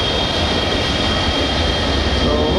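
A FedEx jet passes close by at an airport, a loud, continuous engine roar and whine that stays strong throughout.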